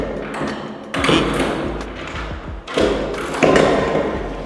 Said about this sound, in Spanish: Cierro la caja